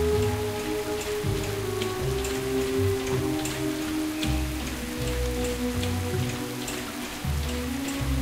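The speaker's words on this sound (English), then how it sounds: "Yeah, it's pouring down too." Heavy rain pours without a break in Booty Bay in World of Warcraft, a dense patter of drops on hard surfaces over low ambient game tones, with no voices.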